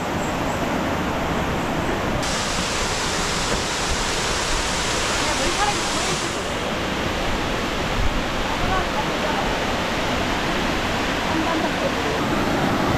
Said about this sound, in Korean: 이게 3단으로 된 폭포라고 하는데